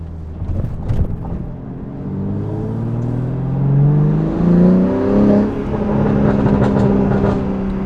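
A BMW S58-engined M3 or M4 revs up and holds a rising, droning exhaust note close by, swelling and easing over several seconds with no talking.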